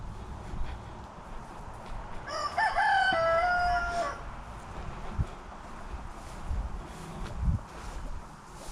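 An outdoor rooster crows once, loud and clear, over a steady bed of low background noise and faint scattered chicken sounds.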